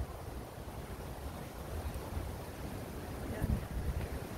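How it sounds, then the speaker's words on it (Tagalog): Strong wind blows outdoors on a cool morning walk, a steady broadband rush that buffets the microphone continuously, with a brief louder gust near the end. "Mahangin at malakas ang hangin"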